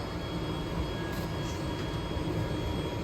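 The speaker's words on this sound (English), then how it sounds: "The blower here is on" A biomass boiler's blower fan running steadily, a continuous broadband rumbling whoosh with a low mechanical hum, constant and fairly close, no voices.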